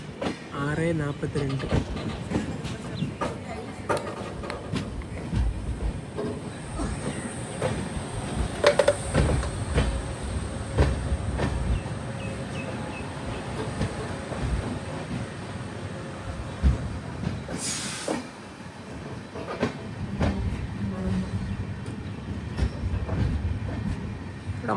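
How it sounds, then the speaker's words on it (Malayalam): Kannur–Yesvantpur Express rolling into Banaswadi station in Bengaluru, heard from inside a sleeper class coach: a steady rumble with wheel clatter and occasional squeals, with a voice speaking over the train noise throughout. "കണ്ണൂരിൽ നിന്നും 645 കിലോമീറ്റർ യാത്ര ചെയ്ത് ട്രെയിൻ ഇപ്പോൾ ഇതാ ബാംഗ്ലൂരിലെ ബനസ്വാടി റെയിൽവേ സ്റ്റേഷനിലേക്ക് എത്തി."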